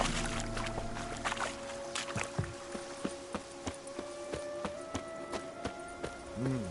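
Hooves of the horse Roach clopping steadily in The Witcher 3 video game, a moderately paced rhythmic beat at mid distance over a sustained ambient drone and faint game music.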